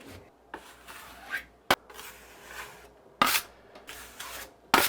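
A drywall knife scrapes and spreads joint compound across a wall in short rasping strokes, with a few sharper metallic scrapes, close and fairly quiet.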